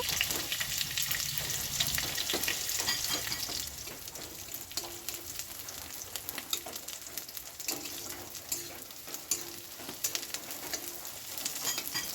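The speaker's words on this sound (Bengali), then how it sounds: "তেলে রসুনগুলো বাদালি কালার করে ভেজে নেব" Garlic cloves fry in hot oil until browned, giving a dense, close sizzle that is loudest for the first few seconds and then settles into a quieter, crackling hiss with scattered pops.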